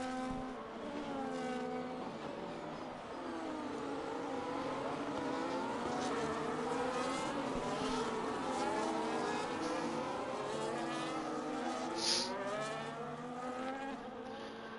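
Race cars in a racing video game at the Austin GP circuit drone steadily as several engines overlap, their pitch rising and falling through gear changes and passes, with one brief high squeal.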